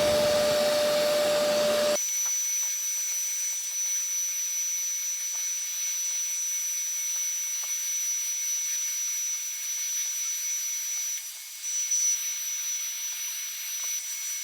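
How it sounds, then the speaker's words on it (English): An OxiClean large carpet cleaner's vacuum starts up and runs steadily on a car carpet wetted with cleaning solution, a loud continuous roar with a high whine, close and unbroken apart from one brief dip. "now we are going to vacuum it"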